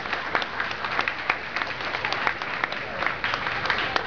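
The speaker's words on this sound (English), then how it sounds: "Give him a great big round of applause." An outdoor crowd at a big cat sanctuary's police K-9 dog demonstration gives a round of applause; steady, moderately loud clapping with sharp individual claps throughout, a faint voice or two beneath.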